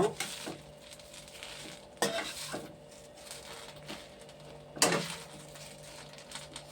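Vegetables frying in a pan give a quiet, steady sizzle broken by a few sharp scrapes and clinks of a utensil stirring against the metal.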